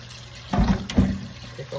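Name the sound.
rinsing turkey wings with vinegar and water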